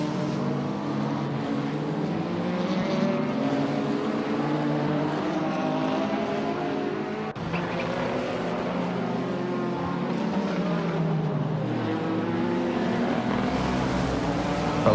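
Corvette and McLaren GT3 race cars lapping Daytona in a racing video game, a continuous droning engine roar with rising and falling pitch as they run close together through the banking, steady and fairly loud throughout.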